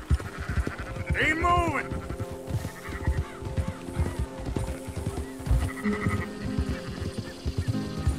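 Sheep in the Red Dead Redemption 2 video game bleat repeatedly from close by, several wavering calls scattered among a flock's noise, while someone talks over them throughout.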